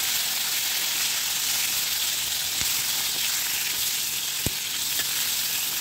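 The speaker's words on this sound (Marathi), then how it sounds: "त्यानंतर मीठ लावून घेतलेली जी वांगी आहे ती कढईमध्ये टाकायची आणि आता ही वांगी या तेलामध्ये व्यवस्थित अशी मिक्स करून घेऊया।" Salted eggplant pieces sizzle and fry steadily in hot oil in a kadai as they are stirred, a continuous close crackling hiss with a sharp click of the spoon near the end.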